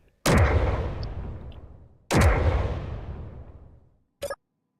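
Two heavy booming shots from a custom weapon in Space Engineers, each a loud blast with a long decaying tail about two seconds apart, followed by a short sharp double pop at the end.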